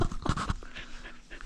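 Dog panting heavily and close by, a quick rhythmic series of breaths that fades after half a second into softer breathing.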